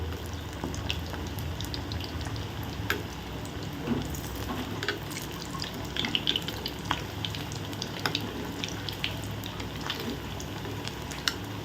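Rice vadas frying in hot oil as they are turned over, a steady bubbling sizzle with small clinks and stirring sounds throughout, no talking.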